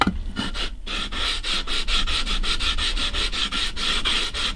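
Sanding by hand over hardened CA glue on a Gibson banjo fretboard, a fast regular rasping rub of repeated back-and-forth strokes, close and fairly loud with no talking.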